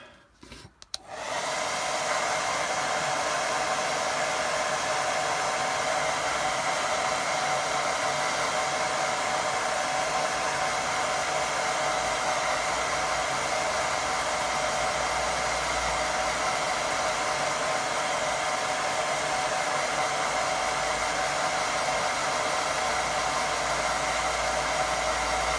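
A hair dryer blows steadily to dry a watercolour painting, clicking on after a second and then droning loudly and evenly without pause, with no talking.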